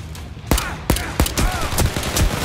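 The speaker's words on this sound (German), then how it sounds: "Die schießen alle auf mich" Enemy gunfire in Overkill's The Walking Dead, a series of sharp, loud, widely spaced shots cracking out one after another in a tense fight.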